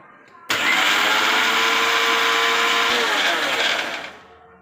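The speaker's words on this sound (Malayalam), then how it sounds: "മിക്സി അരയ്ക്കാൻ പോവാണ്" Mixer grinder whirring loudly as it grinds mango curry ingredients, a steady high-pitched motor roar that starts abruptly, holds for a few seconds, then winds down.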